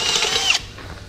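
A step drill bit turning at low speed bores a clearance hole during a truck axle seal swap, giving a loud, steady grinding whir that stops abruptly about halfway through, leaving quiet room noise.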